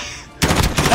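Gunfire in the Call of Duty Warzone video game, a sudden loud burst of rapid automatic shots that cuts in after a brief quieter moment.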